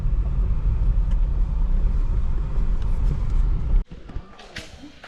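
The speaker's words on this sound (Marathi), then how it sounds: "गाडी इकडे लावतो मी" Car rumbling as it is parked, a steady low engine drone that cuts off abruptly near the end, followed by a few small knocks and faint movement sounds.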